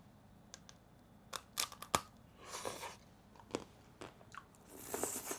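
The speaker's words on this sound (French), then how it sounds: "Regarde, écoutez le croquant." Crisp bites into crunchy ice cream, several sharp crunches close up with quiet gaps between them and no talking.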